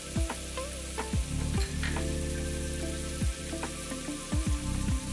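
Spice powders and salt sizzle in a hot pan for radish sambar, a steady close frying hiss broken by several soft scraping stirs.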